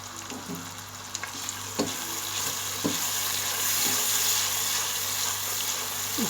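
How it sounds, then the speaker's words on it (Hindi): Spices fry with tomato, onion, ginger-garlic paste and ground cumin in a pan, giving a steady close sizzle with occasional scraping stir strokes and no talking. "अच्छी तरह मिक्स करेंगे तमाम स्पाइस को टमाटर और प्याज के साथ और अदरक लहसुन के पेस्ट के साथ"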